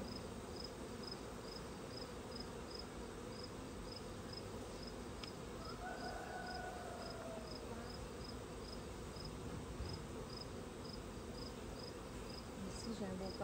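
Honeybees hum around an open hive during an inspection, a steady insect drone filling the background at low level throughout, with a faint chirp-like pulse repeating above it.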